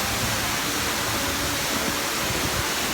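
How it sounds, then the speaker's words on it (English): A Mickey-shaped water fountain splashes at Hong Kong Disneyland, making a dense, steady hiss of falling water that stays loud and unbroken throughout. "And there he is, Water Fountain Mickey"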